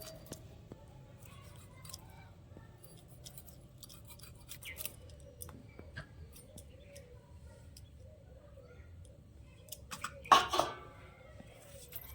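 A knife lightly scores a fish, likely hilsa, with faint, soft scraping strokes in a quiet kitchen, ending in one brief louder clatter near the close.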